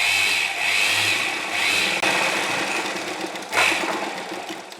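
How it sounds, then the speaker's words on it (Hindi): An electric sewing machine stitching printed fabric for a pintuck panel on an angrakha kurti: close, fast whirring runs of stitching in several bursts with brief slowdowns between them. "इसलिए हम इस तरह से इसको पकड़ेंगे और सिलाई लगा लेंगे।"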